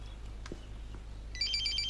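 A mobile phone rings indoors with a short repeating electronic ringtone that starts near the end, moderately loud above a low background hum. Brief knocks and shuffles come just before it.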